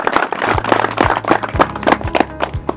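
A crowd of villagers in a rural community applauds to welcome a congressman, scattered hand claps crowding into a quick uneven patter, close and fairly loud with no voices over it.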